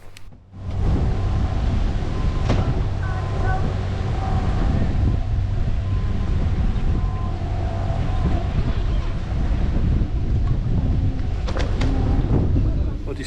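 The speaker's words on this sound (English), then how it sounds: "Well, despite the wind" Wind gusting steadily outdoors at a canal boat mooring, a loud continuous rumble and buffeting against the microphone that lasts the whole stretch, with faint background sounds mixed in.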